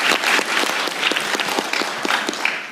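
An audience applauds to congratulate a high school student who won gold with a perfect score at the International Mathematical Olympiad, a steady round of many hands clapping at moderate volume.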